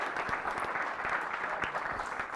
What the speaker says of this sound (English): if you guys want to give them a hand of applause